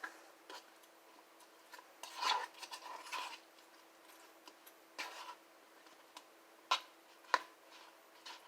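Orange chicken sauce being mixed with a utensil, quiet rubbing and scraping strokes against a container with a few sharper clicks, close and faint, in irregular bursts.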